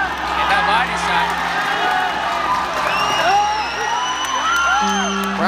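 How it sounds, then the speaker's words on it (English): Boxing arena crowd at a Casimero fight roaring and whooping steadily throughout, loud and close, with an announcer's voice running over it. "Crowd coming to life."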